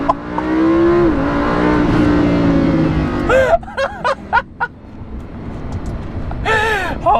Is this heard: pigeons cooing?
no